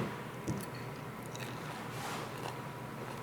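A bite into a crispy breadcrumb-coated pork chop, buttery and juicy inside, gives a single close crunch near the start, then soft chewing noises against a steady low room hum.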